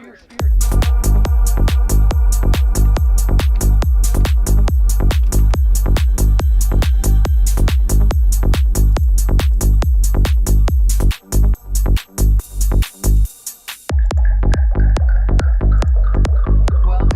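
A frozen loop from a delay plugin set to 100% feedback pulses in a rapid, relentless electronic throb, loud and dense, briefly stuttering and dropping out before shifting into a softer sustained tone at the end.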